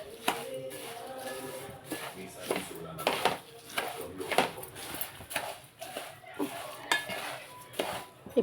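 A utensil repeatedly scraping and clinking in a pan as peanuts and dried red chillies are dry-roasted for a flattened-rice snack mix, with irregular taps and stirring strokes throughout at moderate volume, and a voice talking over it.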